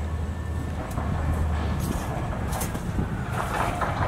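A semi truck rumbles past on a residential street, a low, steady engine and road drone that holds at moderate volume for a few seconds.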